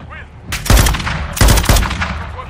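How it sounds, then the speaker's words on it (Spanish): Sharp bursts of gunfire and a heavy blast from a grenade explosion in Call of Duty Modern Warfare 2, loud close cracks in two clusters with decaying rumble between them. "¡Lanzando granada!"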